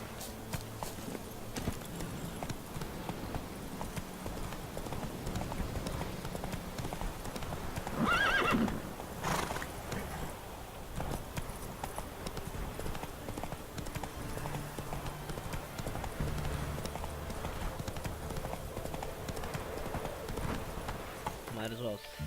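Roach, the horse in The Witcher 3: Heart of Stone, trots with steady clip-clopping hooves and gives a short whinny partway through, while someone talks over the hoofbeats throughout.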